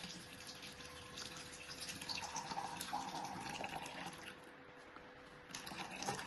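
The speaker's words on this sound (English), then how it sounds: "Until the water come out from the overflow hole, stop adding water." Water is poured through a funnel into a diamond ice sculpture fat-removal body slimming machine, giving a steady close trickle and splash that runs without break and alone, with no voices.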